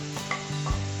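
Turmeric, Kashmiri chilli powder and other spice powders sautéing with onion and tomato in a pan, a soft steady sizzle with stirring scrapes, close and alone without talk.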